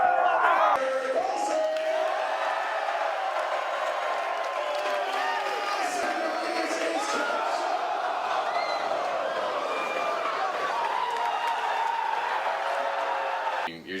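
A high school student section, the Raider Red Sea, roars and cheers at a game in a gym, a loud sustained crowd din with whoops and shouting voices layered over it.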